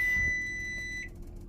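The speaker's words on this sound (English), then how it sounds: "All right, our timer is going off." An oven timer beeps with a steady high electronic tone as molasses cookies finish baking, then cuts off abruptly, leaving a low kitchen hum.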